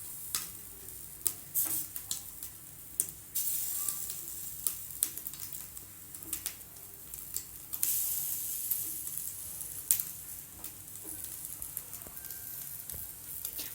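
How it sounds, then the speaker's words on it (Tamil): Cubes of cut paneer roast on a hot dosa pan, giving a continuous soft sizzle with scattered sharp ticks and clicks as pieces are moved and turned, steady and close with no talking. "தோசைக்கல்ல நம்ம கட் பண்ணி வச்சுருக்க பன்னீரை ரோஸ்ட் பண்ணிக்கலாம்."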